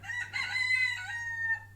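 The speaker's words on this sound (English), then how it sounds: "There's a chicken, one of 5 here at #blessed. This is a young rooster" A young rooster crows nearby in one drawn-out, somewhat rough call that rises and then trails off into a couple of shorter notes over a faint low hum.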